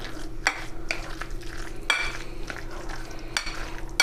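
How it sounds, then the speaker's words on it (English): A spoon scrapes and clinks around a bowl while a salmon melt mixture with green onions is stirred, several sharp clicks against the side over a soft, continuous mixing sound, close and without talk. "And then I'm just gonna give it a good stir."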